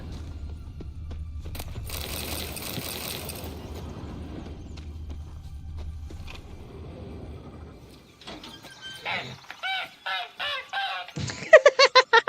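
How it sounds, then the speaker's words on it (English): A goose in Witcher 3: Blood and Wine honks in a rapid series of loud, nasal calls near the end, after a stretch of quieter ambient game sound. "Freaking goose."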